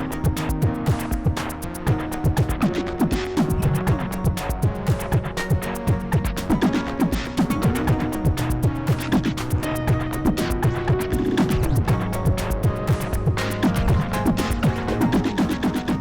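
A time-stretched drum loop run through delay and pitched up an octave, played on an Octatrack MK2 alongside a Deluge, with a dense, steady rhythmic pattern of repeated hits and bass tones throughout, loud and continuous with no voices.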